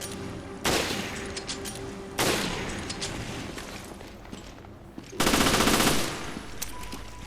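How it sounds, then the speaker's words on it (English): Sniper rifle shots in the video game Resident Evil Revelations, three loud sharp cracks spaced a couple of seconds apart, each with a long decaying echo over the game's ambient background. "And then I use a sniper right here to shoot him."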